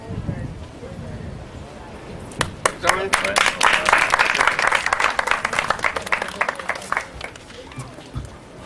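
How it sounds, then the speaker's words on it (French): An audience claps at an outdoor community sanitation event in Port-Bouët, where a bin is donated on behalf of the town hall. Dense, steady applause starts after a couple of seconds of background murmur and continues to the end, with voices mixed in. "On applaudit, on applaudit."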